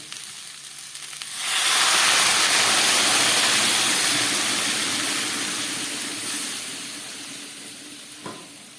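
Hot water is poured into a pan of fish head curry with vegetables, setting off a sudden loud hissing rush of steam and bubbling that slowly fades, ending with a small clink.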